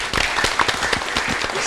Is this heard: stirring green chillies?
no